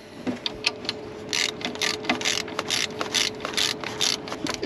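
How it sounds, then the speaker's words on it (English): A ratchet with a 15mm socket tightens bolts during alternator replacement on a Chevrolet Silverado, producing a quick series of close, crisp clicking bursts in an uneven rhythm, with no talk. "you're going to take your 15mm socket on a ratchet, or you could use a wrench. Tighten those guys back down here."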